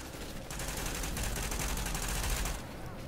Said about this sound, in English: How is he shooting at me?